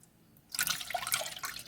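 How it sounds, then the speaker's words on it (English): Two cups of water are poured into a pan, a short splashing pour that starts after a brief quiet moment, while flaxseed hair gel is being made. "now we're gonna add the 2 cups of water to a pan"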